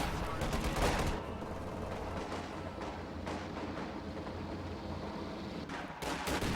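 Dense gunfire and heavy bazooka blasts from a WWII strategy video game battle crackle in rapid overlapping bursts, with a sharp loud impact near the start and more bangs toward the end.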